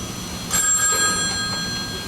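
A telephone rings on a high school stage play set, a steady electronic bell tone with sustained high overtones lasting about two seconds, close and clear with no talk.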